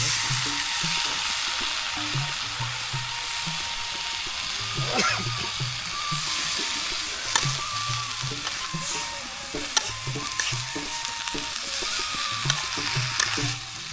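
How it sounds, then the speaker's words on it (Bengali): Taro stolons, potatoes and several kinds of leaves stir-fried in a pan over a village cooking fire, a steady loud sizzle with repeated scraping stirs and occasional clinks throughout, no talking. "একটু নাড়াচাড়া করে দেয়"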